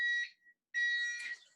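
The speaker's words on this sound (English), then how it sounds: "So that's our timer." A kitchen oven timer sounds two loud, shrill electronic beeping bursts separated by a short silence, close to the microphone with no talking.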